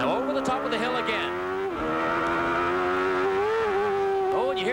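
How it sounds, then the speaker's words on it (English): A 1993 IndyCar race car at Mid-Ohio, loud engine whining and shifting pitch as it crests a hill and the wheels spin up briefly, onboard and close. "Oh, and you hear the wheel spin? Car got light,"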